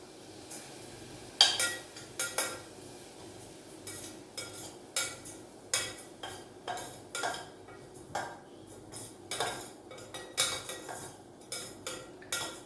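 A spoon scrapes and clinks against a pan as one cup of oats is stirred and roasted, rhythmic strokes about once a second, close and fairly quiet with no talk.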